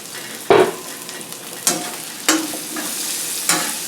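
Garlic dropped into hot oil in a pan, with a few sharp bursts of sizzle and stirring scrapes over a steady low frying hiss, close and moderately loud, no talk.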